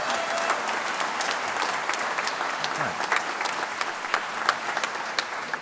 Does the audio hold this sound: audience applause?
yes